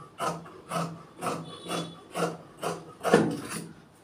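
A tailor marks a cross on fabric while cutting pants, giving eight evenly spaced rubbing strokes close by, each a short scratchy rasp with brief pauses between.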